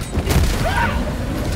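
A Helldivers 2 hell bomb detonates in one deep, heavy boom that rolls into a low rumble and fades over a second or so.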